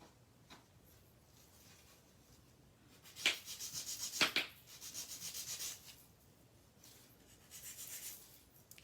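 A hand file rasps across acrylic nails in short, close scratchy strokes, with quiet pauses and a few louder bursts of rapid back-and-forth filing.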